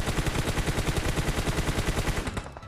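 Rapid automatic gunfire from a mobile battle game played on a ROG 3 phone, a loud, evenly paced burst of shots continuing almost without a break before cutting off near the end.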